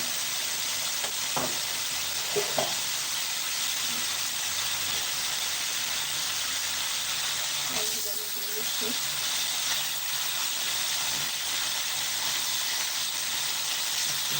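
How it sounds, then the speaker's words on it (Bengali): Small cut pieces of shing catfish frying in hot oil over a cooked-down spice masala, a steady close hissing sizzle with a few brief clinks of stirring, while a voice speaks over it at moments. "এখন আমি মাছটা দিয়ে দেবো ভিতরে শিং মাছটা কেটে ধুয়ে ছোটো ছোটো টুকরা করে পরিষ্কার করে রেখেছি"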